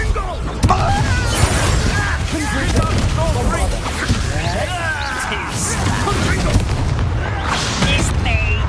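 Spell blasts in Hogwarts Legacy combat, a loud continuous wash of booming explosions and crashing impacts over dense battle noise, with several sharp bursts and a voice shouting beneath the chaos.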